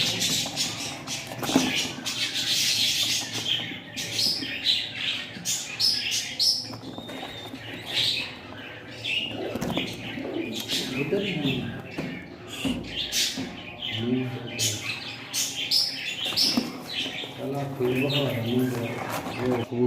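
Caged quail and pigeons for sale, chirping and cooing in a busy mix of bird calls that runs throughout. Someone talks over the birds.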